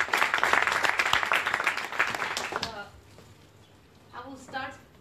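An audience at an indoor event applauds in a dense burst of clapping that lasts nearly three seconds, then fades, with a voice speaking briefly afterward.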